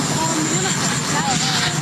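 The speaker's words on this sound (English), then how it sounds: "You have a helicopter." A helicopter flying overhead at a presidential press gaggle, a steady loud rotor and engine roar filling the background with voices faintly mixed in.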